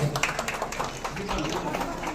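An audience claps at a hospital opening ceremony in Tuni, giving a brief burst of scattered, fairly close applause while a voice talks over it.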